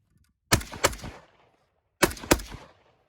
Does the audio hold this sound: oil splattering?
no